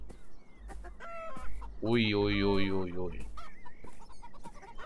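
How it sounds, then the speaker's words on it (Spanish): Chickens cluck and crow from a farmyard pen in the video game Beyond Eyes, with a loud, drawn-out rooster-like call lasting over a second in the middle while someone talks quietly before and after. "Es que están como gallinas aquí en plan valladas."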